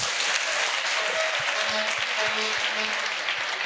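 A crowd at an outdoor Christian healing crusade in Bafoussam claps and cheers continuously, dense and loud throughout, with a faint voice and musical tones underneath.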